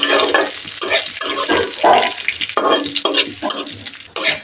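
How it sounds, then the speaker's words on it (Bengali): Cashews frying on low heat in a pan, stirred with a spoon: repeated close scraping strokes over a light sizzle, rhythmic and fairly loud, with no talk. "নেড়ে দিলাম।"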